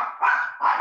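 A dog barks twice in quick succession, close and loud, with short sharp yapping calls standing alone without talk.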